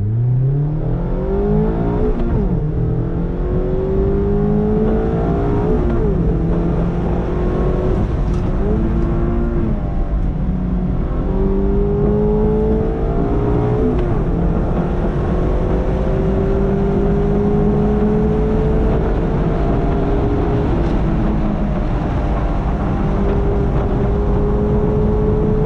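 A manual 2022 Mazda MX-5 Miata Club climbs hard through the revs on throttle, its engine note rising steadily with several quick dips for gear changes, loud and close throughout with no talk.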